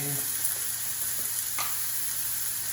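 Onions and garlic sizzle in a hot pan while being stirred, a steady frying hiss with a brief scrape of the utensil partway through.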